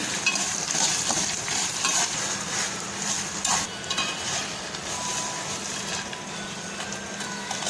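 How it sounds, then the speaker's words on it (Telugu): Dried red chilies frying in a kadai for cucumber chutney, a steady near sizzle throughout with light stirring scrapes and occasional metallic clinks of a spoon on the pan. "వీటిని కూడా బాగా ఫ్రై అవనివ్వాలండి."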